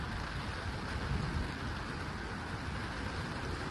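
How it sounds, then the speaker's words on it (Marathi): Heavy rain falls steadily over Shivaji Park ground in Dadar, Mumbai, a dense, continuous hiss with a low rumble underneath, loud and even throughout with no voices. "सकाळपासूनच पावसानं जोर धरलेला आहे"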